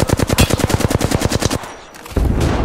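Rapid automatic gunfire in a competitive shooter game, a loud close burst of evenly spaced shots for about a second and a half, followed by a brief lull and then dense noisy action.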